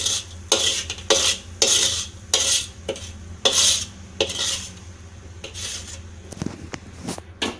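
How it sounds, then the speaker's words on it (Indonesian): A spoon stirring tofu filling for lumpia in a pan, rhythmic scraping strokes about one per second, close and clear, fading to lighter taps and clinks toward the end. "Terus diaduk rata."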